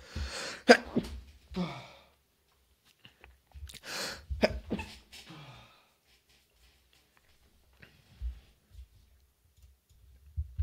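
Someone with the flu sneezes and snorts in several sharp, close bursts, clustered near the start and middle and separated by quiet gaps, with a few faint clicks later.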